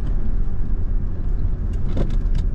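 A car slows under braking while the driver shifts into second gear; a steady low engine rumble runs throughout, with a brief mechanical clunk near the end, close and without talking.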